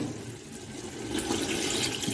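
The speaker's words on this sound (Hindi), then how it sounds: "अब डालेंगे इसके अंदर पानी।" Water, about half a litre, pours steadily into a pot of mutton and spices, a continuous rushing splash that grows slightly louder toward the end, with no talking.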